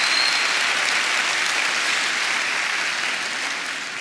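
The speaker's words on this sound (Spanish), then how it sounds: "Dale un aplauso al Rey bendito." A church congregation applauds steadily and loudly, a dense wash of clapping that holds throughout and eases slightly toward the end.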